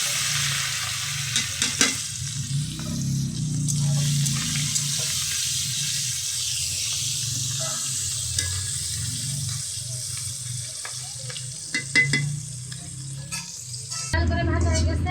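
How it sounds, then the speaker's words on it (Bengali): Prawns fry in hot oil in a wok, giving a steady broadband sizzle that holds for the whole stretch, with scattered pops and a few stirring clatters; a brief louder burst comes near the end. "চিংড়ি মাছ ভালো করে ভেজে নেব"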